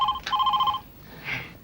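A short electronic telephone ring, a bright warbling trill lasting under a second, followed by a fainter second chirp.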